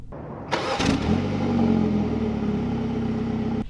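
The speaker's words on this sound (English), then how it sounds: "put your foot on the brake and press the button" A 2020 BMW 228i Gran Coupe starts by push button: a brief starter whir, a quick rev flare, then a settled steady idle, close and clear inside the cabin with no talking.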